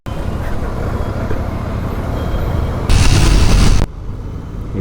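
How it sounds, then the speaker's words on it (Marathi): Heavy peak-hour road traffic in Mumbai heard from a Continental GT650 motorcycle: a dense, continuous rumble of engines and road noise with wind buffeting, swelling into a louder rush near the end. "खूपच ट्रॅफिक लागते."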